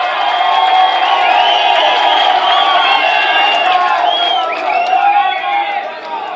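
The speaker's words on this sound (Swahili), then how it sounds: "Mchapie waziri wetu makofi" A crowd at the launch of the Meru County aggregation and industrial park cheers and whoops loudly for the minister, a dense continuous roar of voices with shouts rising above it throughout.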